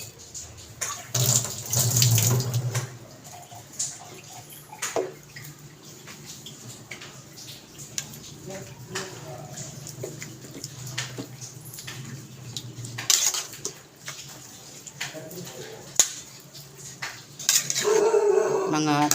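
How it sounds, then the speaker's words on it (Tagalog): Chicken adobo being stirred in a pot with plenty of garlic, giving scattered metallic scrapes and clinks of a spoon against the pot, intermittent and moderately close, with a faint watery background and occasional voice. "Haluin nga natin."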